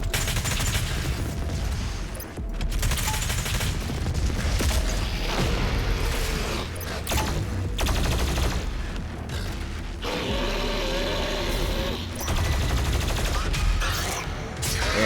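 Video game gunfire from a PC running a de-shrouded 3080 Ti, bursts of shots and booms crackling continuously through the whole stretch, with someone talking intermittently over the action.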